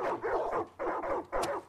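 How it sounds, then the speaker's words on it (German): Dogs bark in the video game Far Cry 5, three loud, close barks in quick succession, each a full, rough burst with short gaps between. "Kann ich die Hunde nicht rauslassen?"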